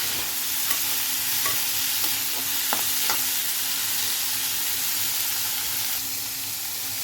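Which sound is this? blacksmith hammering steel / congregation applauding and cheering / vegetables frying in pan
vegetables frying in pan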